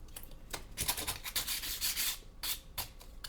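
Sandpaper rubbed in short back-and-forth strokes, a close, raspy scratching with an uneven rhythm and no voices.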